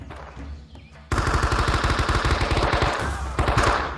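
Rapid, sustained automatic rifle fire from the video game Men of Valor erupts suddenly and runs as a dense, loud burst of shots for several seconds.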